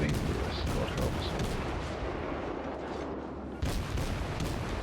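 Heavy naval gunfire from German cruiser guns in World of Warships booms through a dense, continuous battle roar, with a fresh loud salvo late on.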